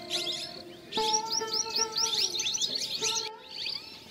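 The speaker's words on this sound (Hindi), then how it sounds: "तो सुबह पक्षियों की चहचहाट," Small birds chirp and tweet in repeated bright bursts on a morning walk along a pilgrimage path beside an ashram, fairly close and lively over a steady low hum, with no one talking.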